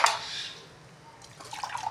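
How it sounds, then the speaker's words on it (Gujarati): A little water is poured into a cooking pan, a brief splashy trickle at the start followed by softer dripping and sizzling toward the end. "થોડુંક પાણી નાખવાનું થોડુંક પાણી ડાળી દીધું"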